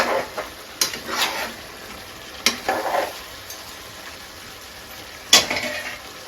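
Green chillies being stirred into a pot of country chicken curry: soft scraping stirs with a few sharp spoon knocks against the pot over a low sizzle, no talking.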